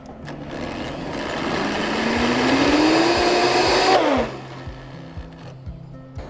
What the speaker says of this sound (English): So we are going to go ahead and just hand blend it now.